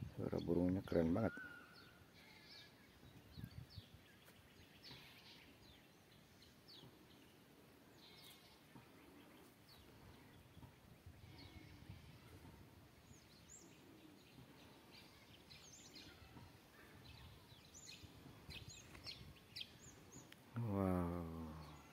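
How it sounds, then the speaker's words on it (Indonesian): Faint birdsong with scattered chirps and calls from a distance over quiet ambient noise at an Islamic boarding school in Lembata, East Nusa Tenggara, Indonesia, with someone talking briefly at the start and end. "Suara burungnya keren banget."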